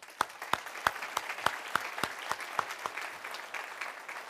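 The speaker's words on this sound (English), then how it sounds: "a round of applause for all of our finalists and winners" Indoor award-event audience applauding finalists and winners, a modest crowd's clapping with distinct individual claps, moderately close and fading toward the end.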